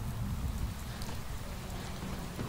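Rain in the video game Fallout 4 falls as a dense, steady hiss of drops on surfaces, unbroken and fairly loud throughout, with no talking.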